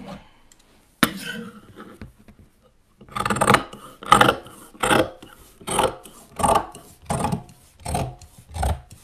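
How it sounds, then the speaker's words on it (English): Scissors trim excess fabric from a necklace swag drapery, a single sharp cut followed by a pause, then a string of rhythmic, rasping snips, close and fairly loud. "Now we're going to trim that off."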